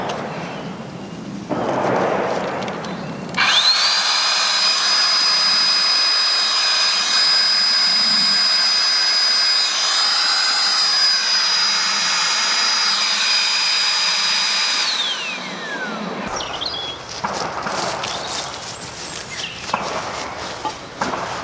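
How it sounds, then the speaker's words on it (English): Two electric airbed pumps feeding a single pipe into a forge switch on together with a loud, steady high-pitched whine and rushing air that holds for about twelve seconds, then winds down, with handling noises before and after. "2 airbed pumps feeding into a single pipe, and that slots over the pipe in the forge."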